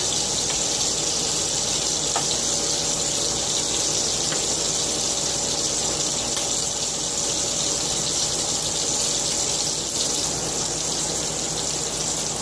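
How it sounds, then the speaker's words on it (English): Steady water gushing from an outdoor spigot, a constant loud hiss and splash that never lets up. "And this is just plain water out of my spigot."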